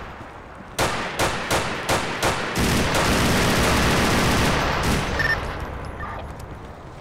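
Gunshots in the GTA IV video game: a rapid string of six or seven sharp cracks, then a dense sustained burst of fire that gradually tapers off, loud and close.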